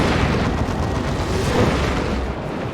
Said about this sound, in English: I'm hearing lots of las cannons.